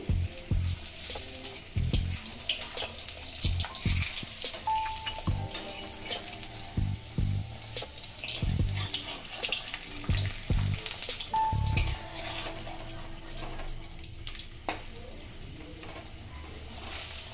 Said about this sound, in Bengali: এবার আস্তে আস্তে আমি এটাকে ভেজে নেব।